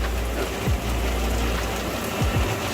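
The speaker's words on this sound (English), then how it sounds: "The rain is falling that heavily that it can't drain quickly enough out of the self-draining scuppers." Heavy cloudburst rain drums steadily on a rescue RIB off the Croatian coast, with a dense constant wash of drops and a low rumble underneath and no voices.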